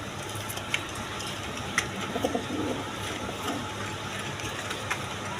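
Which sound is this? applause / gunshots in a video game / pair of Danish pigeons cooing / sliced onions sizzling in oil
pair of Danish pigeons cooing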